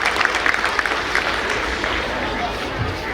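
Steady applause from an audience at a school annual day Urdu mushaira as a poet is welcomed to the stage, dense continuous clapping with crowd murmur throughout.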